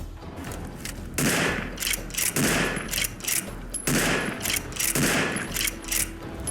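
Vintage Repeater lever-action rifle from a Fallout 4 weapon mod, modeled on the Winchester 1866 and Henry 1860, firing in-game: several loud, sharp shots spaced about a second apart, each with a booming, echoing tail.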